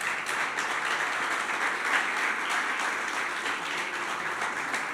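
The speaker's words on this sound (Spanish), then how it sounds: "¿Por qué le das tu mejor aplauso entonces?" Steady, dense applause from a church congregation fills the space evenly for several seconds, loud and continuous with no clear individual claps standing out.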